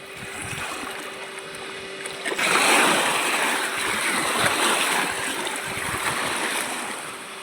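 A boat's motor drones steadily over rushing water and wind on the Bhigwan dam reservoir, growing louder and fuller partway through as the craft moves across open water.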